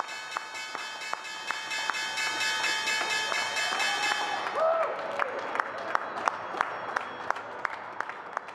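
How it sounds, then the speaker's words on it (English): The stock exchange opening bell on a Friday morning rings as a steady sustained tone with regular clanging strikes, then gives way to applause and crowd noise, with the strikes continuing through it. "we're going to take the opening bell on this Friday morning"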